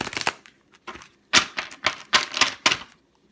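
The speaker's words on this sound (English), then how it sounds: "I'm just going to shuffle these cards a little bit more." Rapid, crisp riffling bursts of shuffled tarot cards, several quick flurries separated by short pauses, close and fairly loud with no talking.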